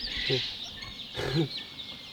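Newly hatched baby chicks peep in two short, high chirping bursts, close by and fairly faint, with no talking over them.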